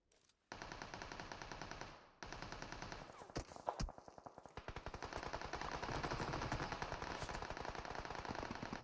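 Enemy gunfire in the mobile battle royale BGMI: long, loud, rapid automatic bursts of closely spaced shots, pausing briefly before resuming with heavier, echoing continuous fire that runs almost the whole time.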